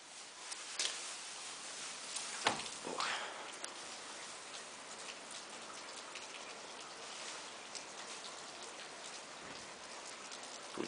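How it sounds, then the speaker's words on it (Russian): Rain falls steadily outside, heard from a balcony as a soft, even patter with occasional closer ticks and drips, fairly faint throughout. "идет дождь"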